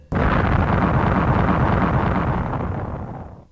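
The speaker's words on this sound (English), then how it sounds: "Suddenly, there was a terrific explosion, and all 3 of them dived to the ground." A terrific explosion erupts suddenly as one loud broadband blast that roars steadily for about three seconds before cutting off, heard alone as a dramatic effect.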